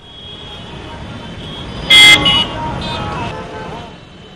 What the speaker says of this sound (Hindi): राजधानी लखनऊ में ट्रैफिक जाम की समस्या दिनों दिन बढ़ती जा रही है।